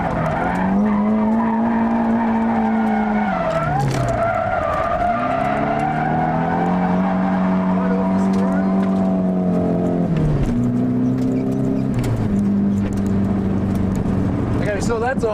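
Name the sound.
drifting car sliding with handbrake, tires skidding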